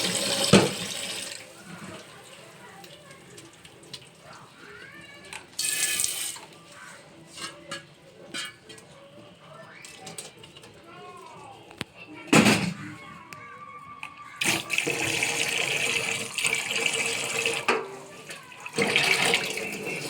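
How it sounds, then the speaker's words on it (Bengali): Boiled chow mein noodles drained of their water in a kitchen sink, with bursts of gushing, splashing water between quieter stretches, near and fairly loud, along with clatter and bits of background voice. "তো এই চাউমিনটাকে জল ঝরিয়ে দেবো"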